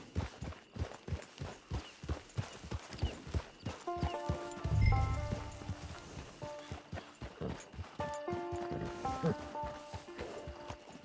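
Horse hooves clip-clop in a steady, even rhythm in the Red Dead Redemption 2 video game. Tonal game music and a brief low thump sit on top of the hoofbeats.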